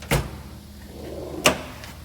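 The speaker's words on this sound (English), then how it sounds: "This drawer just goes deep." Two sharp sliding clunks from a deep drawer on a Matco mechanic's toolbox opening or closing, roughly a second apart, close and alone with no talk.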